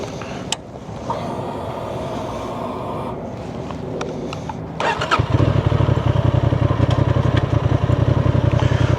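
A 2024 Honda Transalp 750 motorcycle idles quietly, then its engine cranks and fires into a loud, steady, close-up throbbing run as the ride begins.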